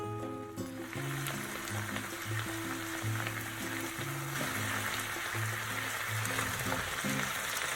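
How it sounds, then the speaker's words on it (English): Honey garlic sauce simmering with tofu in a pan: a steady, close sizzling and bubbling hiss throughout, under soft background music. "Add the sauce and bring it to simmer, and then mix the tofu in."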